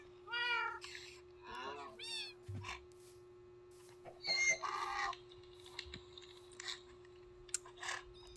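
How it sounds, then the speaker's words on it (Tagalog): A cat meows several times close by on a farm, with chickens clucking nearby and faint activity between the calls. "nakawala yung pusa"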